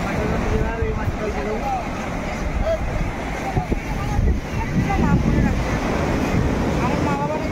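Big sea waves surging and breaking at Puri beach on the Odisha coast, a steady full roar of surf with wind buffeting the microphone throughout and voices talking over it.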